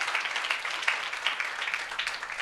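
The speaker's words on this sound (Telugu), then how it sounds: "బిడ్డను బట్టి గట్టిగా చప్పట్లు దేవుని స్తోత్రం చేద్దాం." A church congregation claps loudly in praise, a steady dense wash of many hands applauding together, close and continuous throughout.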